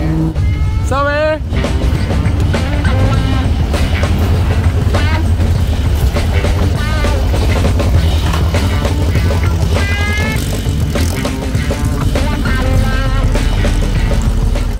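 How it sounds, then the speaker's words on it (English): A train passing near an outdoor brewery gathering, a loud continuous rumble with horn-like tonal blasts rising over it, while people talk throughout. "So we hear the ding, ding, ding, ding, ding, and Merlin's like, train!"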